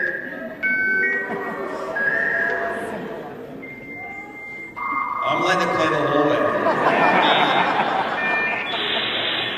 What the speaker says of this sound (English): the beautiful sound of a modem connecting